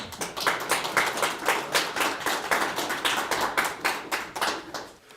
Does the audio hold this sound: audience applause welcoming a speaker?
yes